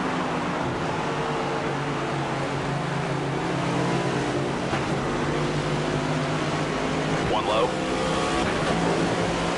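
A race car engine in a NASCAR video game drones steadily and loudly, shifting down to fourth and then up to fifth while exiting a turn at Martinsville, with someone talking over it throughout.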